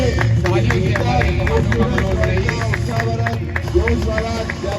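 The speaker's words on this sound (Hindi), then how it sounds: "तालियां बजाइए" A crowd claps at a CISF unit parade at Ekta Nagar near the Statue of Unity, with steady rhythmic clapping throughout and a loud voice over it.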